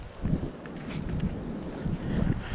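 Strong, gusty wind buffets the microphone beside trout water, roaring in uneven surges that rise and ease, loud and close.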